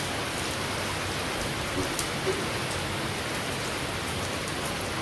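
Steady rain falls, a dense even hiss with faint scattered drops throughout, close and continuous.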